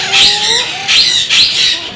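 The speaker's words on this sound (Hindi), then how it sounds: "ये पहाड़ी तोता है आपके सामने" An Alexandrine parakeet at a bird market gives loud, close, harsh squawking calls in three quick bursts over about two seconds, with faint whistled chirps from other birds behind.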